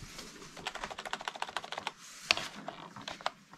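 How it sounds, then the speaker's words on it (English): Rapid clicky keystrokes on a compact computer keyboard for a new gaming PC, tapped in fast uneven bursts with a brief pause midway, close and crisp against a light background hiss. "I'm using this keyboard."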